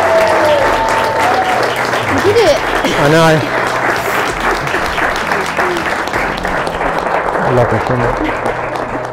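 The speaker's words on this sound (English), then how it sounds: "Round of applause." Wedding guests applaud the newlyweds at a barn venue in Sittingbourne, steady clapping over several seconds with nearby voices talking and a soft background tone.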